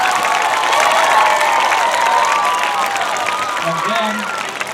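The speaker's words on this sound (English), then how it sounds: "Let's give them a round of applause that they can hear all the way downtown." A large outdoor crowd at a landmark preservation celebration applauds and cheers loudly and continuously, with scattered shouts and a few voices rising above the dense clapping before it begins to taper.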